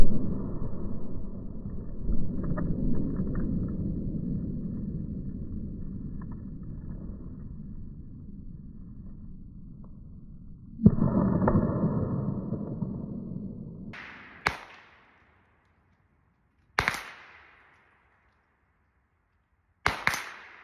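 A .30 M2 armor-piercing round fired at a Model 6906 armor plate at an outdoor range, heard as a sharp, loud, isolated report after a stretch of wind noise, with further single sharp cracks spaced a few seconds apart.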